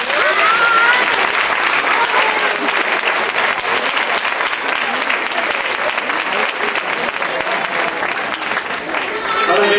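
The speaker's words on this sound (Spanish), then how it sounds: "Fuerte aplauso para Daniel Prades Ramón." Loud, close audience applause at a comedy magic show, thick continuous clapping with some crowd voices under it, steady for about ten seconds.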